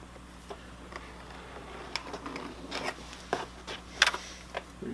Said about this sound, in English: I'll just use this awl to scrape around this shape.